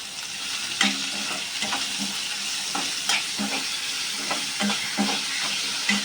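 Onions frying in oil in a pan for a low-oil steamed cauliflower fry, a steady close sizzle broken by repeated scraping stirs of a spoon, with no talking.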